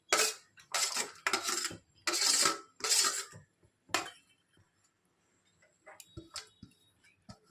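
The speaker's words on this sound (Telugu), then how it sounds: "ఇప్పుడు సన్నగా తరుక్కున్న ఎర్రగడ్డ, పచ్చిమిరపకాయని దీంట్లో వేసుకుందాం. వేసుకొని కలుపుకుందాం." Chopped onion and green chilli being stirred into masala vada batter in a bowl, with a burst of clinks and scrapes of a spoon against the vessel, then quieter scattered taps and knocks.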